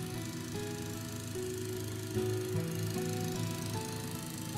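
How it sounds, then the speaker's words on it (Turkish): Cartoon lawn mower running on a football pitch, a steady mechanical engine drone with shifting tonal hums, held at a constant level throughout with no talking. "Çim biçme makinesi futbol sahasında çalışıyor."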